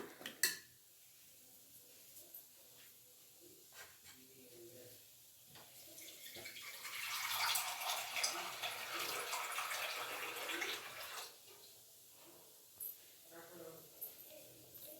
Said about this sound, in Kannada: ನೀರು ಹಾಕ್ತಾ ಇದ್ದೀನಿ ಸಾಂಬಾರ್ಗೆ